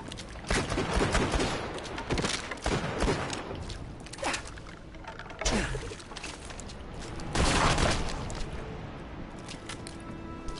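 Rapid gunfire from a Tiny Tina video game weapon crackles in repeated bursts across the whole stretch, loud and close, with a few heavier volleys standing out.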